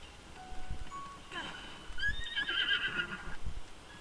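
A horse whinnies in The Legend of Zelda: Breath of the Wild, a bright, wavering neigh standing out over quiet game ambience, with a few soft hoof clops around it.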